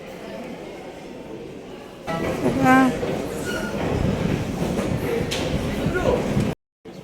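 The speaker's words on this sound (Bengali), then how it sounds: "এটা বুকস মেট্রো স্টেশনের চিত্র" A busy metro station in Belgium at night: rumbling train noise, a door sliding, and a brief tonal chime or signal, with people's voices murmuring in the background.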